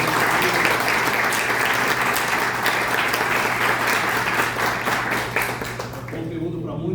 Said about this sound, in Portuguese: Salve de palmas para o Adolfo.